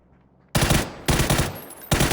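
Gunfire in PUBG comes in three loud, close bursts of rapid automatic shots separated by brief pauses, with no voices over them.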